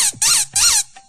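A toy squeaker reed blown by mouth gives two loud, shrill squeaks in quick succession, each a short wavering whistle-like burst, followed by a faint trailing peep, close to the microphone.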